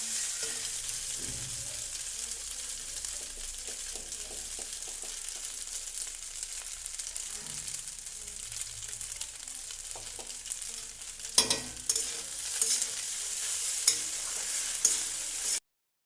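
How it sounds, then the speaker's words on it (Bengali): Pasta being stirred and fried with pasta spice in a pan for an egg pasta dish, a steady close sizzle with scraping strokes throughout, growing a bit busier with clinks toward the end. "মশলাটা দিয়ে হালকা 2-3 মিনিট নেড়ে"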